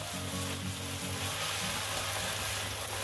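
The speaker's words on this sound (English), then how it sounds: "When the oil is smoking, we're going to go in there with the egg." An egg fries in smoking-hot oil in a pan, producing a loud, steady, continuous sizzle that crackles without pause throughout, with no talking.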